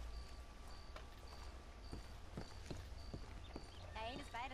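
Horse Daisy in the Western game Red Dead Redemption walks with clip-clop hoofbeats, a regular series of soft thuds at moderate distance over ambient background, ending in faint game sounds.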